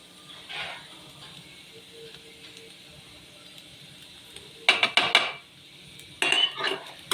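Maggi noodles being mixed with masala, chilli powder and salt in a pan: quiet background, then two short clusters of sharp metal clinks and scrapes from a utensil against the pan.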